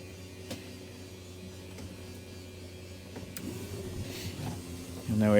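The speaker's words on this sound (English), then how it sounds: "Out goes the slides." An RV slide-out extends at a campground, giving a low steady motor hum with faint clicks, which grows louder and rougher near the end.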